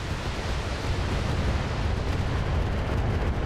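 Heavy mech weapons fire and impacts in the Battletech video game, a dense, continuous roar of rumbling explosive noise throughout, loud and close with no voices.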